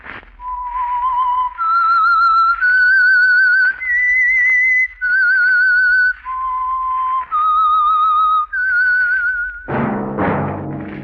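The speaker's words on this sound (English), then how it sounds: "That whistle is your signal for the Signal Oil program, The Whistler." A lone human whistler performs the melodic signature theme of a radio mystery program, a clear sequence of sustained pitched notes with brief gaps, loud and close, ending in a sudden swell of orchestral sound.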